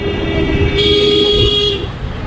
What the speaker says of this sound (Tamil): heavy traffic,